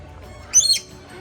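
A lorikeet parrot squawks once, loud and close, in a short harsh burst at an outdoor bird park, against a quiet background.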